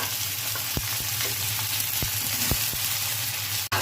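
Flat beans and onions frying in oil in a pan for a winter vegetable and rohu fish curry: a steady, fairly loud sizzle with several sharp spatula knocks and one hard clack near the end.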